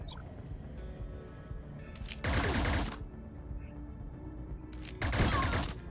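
A shotgun fires twice in Cyber Knights: Flashpoint, two loud, broad blasts a few seconds apart, each ringing for about half a second over a quiet rumbling game background.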